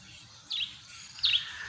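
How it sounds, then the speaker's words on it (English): Cape Sparrow calling outdoors, two short chirping notes about three quarters of a second apart, moderately close over quiet low background noise. "Cape Sparrow has a very interesting call. You probably hear it on the recording during this time."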